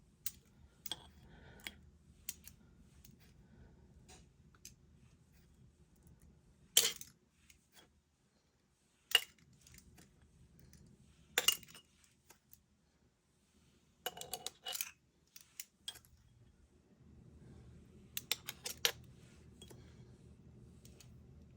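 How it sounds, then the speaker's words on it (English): Roasted garlic spooned into glass canning jars, sparse sharp clinks and taps of a spoon against glass scattered between quiet stretches, close and crisp, with faint scraping in between. "I'm going to add a 1/2 teaspoon of roasted garlic to each one of my jars."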